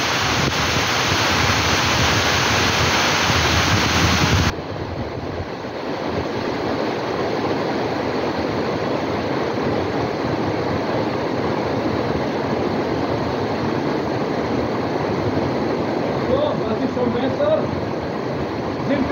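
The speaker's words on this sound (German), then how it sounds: "Es hat gerade angefangen zu regnen" Rain falls outdoors as a loud, continuous broadband hiss that runs throughout, its tone shifting slightly after a few seconds but staying dense and steady to the end.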